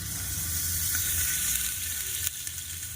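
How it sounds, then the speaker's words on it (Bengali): Onion and meat sizzle steadily in hot oil for biryani, a dense continuous frying hiss with a brief clatter near the end. "এবার বিরিয়ানি বানাবো বলে মাংসের জন্য পেঁয়াজটা দিয়ে দিচ্ছি, এবার তেল দিচ্ছি, মাংসটা কষে নেবো"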